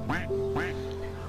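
Ducks quack twice in quick succession, loud and close, with a steady tonal hum running underneath.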